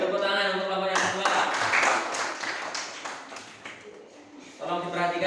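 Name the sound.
classroom clapping for the second group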